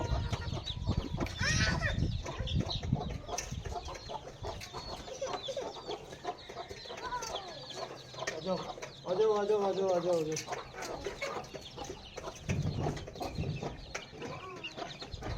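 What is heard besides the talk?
chickens and roosters clucking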